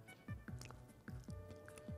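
Close, quiet chewing of a crunchy moon corn from a military survival food pack, with soft rhythmic bites and squishy crunches repeating about every half second.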